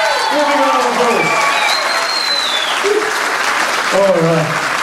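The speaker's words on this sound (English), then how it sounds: "Give me a round of applause." Audience applause at a talent show fills the room as a steady wash of many hands clapping, with a host's voice talking over it on and off.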